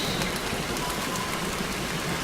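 Steady, dense rain falls in the video game Montague's Mount, a constant close hiss of drops on surfaces with no other sound.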